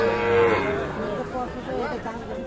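A Sahiwal bull calf at a traditional cattle market lets out one loud, close moo at the start, followed by background murmur of the crowd and livestock.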